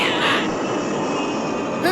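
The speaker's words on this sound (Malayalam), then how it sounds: "പ്ലെയിൻ വരികയാണെന്ന് പറയുകയായിരുന്നു." A cartoon airplane flies over with a steady droning engine roar that holds at an even level for a couple of seconds, with a brief higher sweep at the start.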